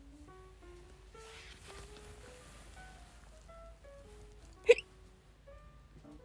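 A single sharp hiccup from a nearby person breaks through a quiet, intimate setting, surrounded by soft voiced tones and faint rustling.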